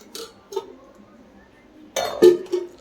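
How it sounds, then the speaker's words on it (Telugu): A metal frying pan (bandi) is set down on a kitchen stove, giving a couple of short clinks and clatters, the loudest one near the end. "బాండీ పెట్టేసుకుందాం."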